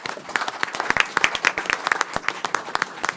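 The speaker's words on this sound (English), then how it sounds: "I just want to give them a round of applause for well done." A round of applause at a municipal board meeting: a scattered group clapping in uneven, distinct claps for a few seconds, fairly close and moderately loud.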